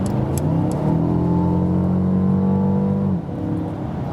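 A Mercedes CLA 250 all-wheel-drive coupé engine pulls hard, its drone climbing steadily in pitch for about three seconds before dropping at a gear change and building again.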